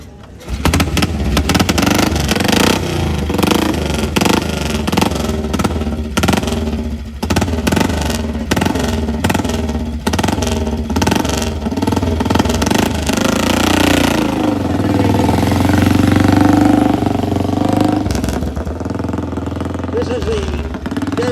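A Rickman Metisse motorcycle engine runs at a museum ride day, loud, close and steady with a throbbing beat that swells slightly as it revs, while people talk nearby.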